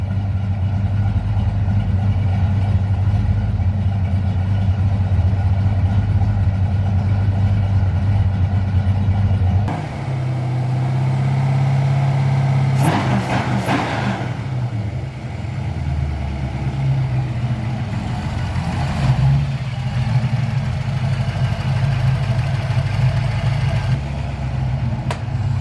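A 1999–2004 Ford Mustang with a swapped 351W/302 V8, freshly fitted with a Holley Super Sniper 650 EFI, idles with a steady, rumbling low note close by. A couple of brief blips and bumps break the idle midway, and no one speaks.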